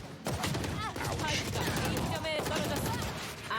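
Rapid gunfire in a Valorant match, a dense burst of shots running continuously at moderate level with a commentator talking over it.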